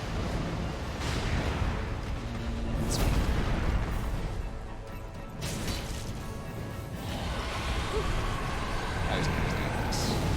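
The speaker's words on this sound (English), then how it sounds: "Oh, there go the fireworks" Fireworks go off outside as a few muffled, distant booms and rumbling bursts, spaced several seconds apart, beneath steady indoor background noise, with a brief spoken word from a man nearby.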